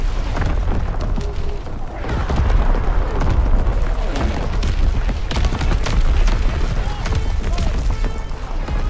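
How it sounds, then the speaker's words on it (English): Heavy artillery shells bursting in a World War II shooter, a continuous loud rumble of booms and blasts with rattling debris and scattered gunfire, close and dense throughout. "Incoming enemy artillery."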